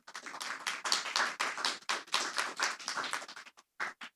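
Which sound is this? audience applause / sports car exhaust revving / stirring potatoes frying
audience applause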